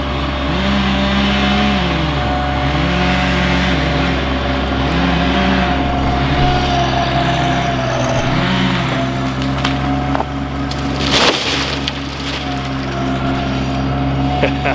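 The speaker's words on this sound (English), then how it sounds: "Now Irwin is pulling right back here with his bobcat." A Bobcat skid-steer pulls on a tree being felled, its engine droning and revving in waves close by under brief talk, with a sharp crack near the end.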